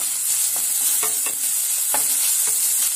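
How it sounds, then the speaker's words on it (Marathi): Onion and chopped green chillies sautéing in a pan, a steady bright sizzle with a few spatula scrapes and knocks as they're stirred, close and continuous with no talking. "छान असं आपल्याला हे लालसर रंगावर कांदा आणि मिरची परतून घ्यायची आहे"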